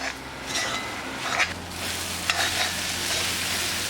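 Beef with fried coconut is stirred and fried for a Kerala beef fry: bursts of spatula scraping over a constant close sizzle, with a few metallic clinks against the pan.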